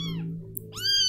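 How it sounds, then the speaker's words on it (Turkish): A small cat in the horror game The Happyhills Homicide meows twice in quick succession, a short clear close meow followed by a rising second call, with no talk over it. "Oğlum kediler çok küçük ya."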